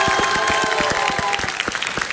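A studio audience at a Greek late-night TV comedy show claps in a dense, loud burst of applause that carries on steadily and begins to thin toward the end.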